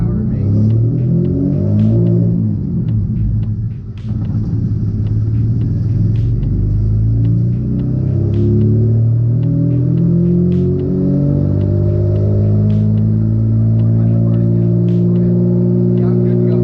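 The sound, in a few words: twin-engine Mazda MX-3 doing a dyno pull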